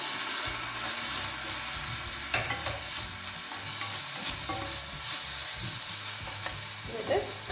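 Cooked prawns tipped into a Kerala-style ivy gourd stir-fry (kovakka chemmeen thoran) in a pan, bringing a steady close sizzle and frying hiss with a few scraping stirs and clinks, and no talk.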